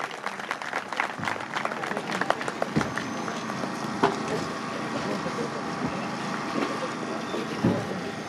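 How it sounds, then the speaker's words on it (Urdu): Audience applause at a school's 60th anniversary celebration, a steady dense clapping from a crowd that carries on for several seconds with a few louder claps standing out. "ایک دفعہ زوردار تالی ہونی چاہیے"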